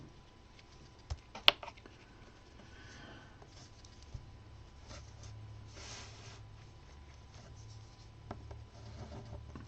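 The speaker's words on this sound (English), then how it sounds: "I just drew my circle on the paper." Pencil or pen drawing a circle on a sheet of paper, producing soft scratchy strokes with a few light taps, faint and close, no talking.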